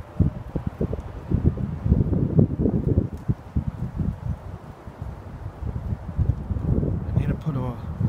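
Wind gusting outdoors in an open field, buffeting the microphone with uneven low rumbles and rustling that rise and fall throughout, fairly loud and close.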